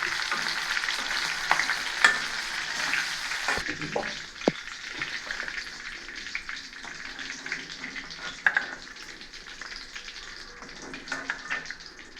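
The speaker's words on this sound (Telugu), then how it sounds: "దీంట్లో నలగొట్టిన తెల్లగట్టి వేసేద్దాం మంచి వాసన టేస్ట్ వస్తాయి పచ్చిమిర్చి వేసేద్దాం" Crushed garlic and green chillies fry in hot oil for hotel-style chicken fry, a loud, dense, continuous sizzle close by, with occasional stirring clatters and pops breaking through the crackle and no one speaking.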